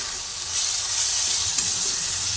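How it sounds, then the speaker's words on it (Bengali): Sesame seeds frying in a pan with turmeric and split green chillies, a steady bright sizzle with soft stirring scrapes, close and continuous without voices. "তিল অল্প ভাজা হয়ে গেছে"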